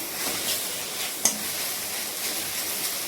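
Leafy greens sizzle steadily in a hot pan over low heat while they are stirred, with a brief utensil tap partway through. The frying is fairly quiet and continuous, and nobody speaks.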